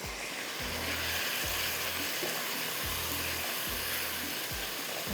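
Chicken kalonji masala frying in a pan, giving a constant loud hiss and sizzle, with low rhythmic thuds from stirring repeating about every second, close and without voices.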